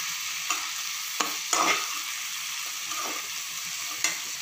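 Wheat rava and vegetables are stirred and roasted in a pan for upma, a soft steady sizzle broken by several sharp scrapes of a spoon against the metal, close and without talk.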